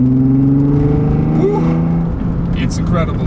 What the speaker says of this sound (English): this exhaust, it's a custom exhaust, and it's even valved